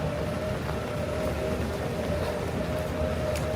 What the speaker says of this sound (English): It's a very odd sound, the electric vehicle hum that they add.